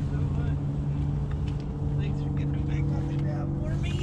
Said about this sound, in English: I'm gonna start my tractor so I know what we're doing here.